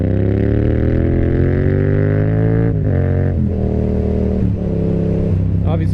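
A Yamaha XSR700 motorcycle with an aftermarket M4 exhaust revs up with a rising pitch, drops briefly, then climbs again in several quick bursts, loud and close.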